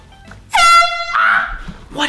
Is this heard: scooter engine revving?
no